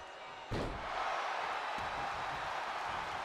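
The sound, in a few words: wrestler slammed onto the mat in WWE 2K video game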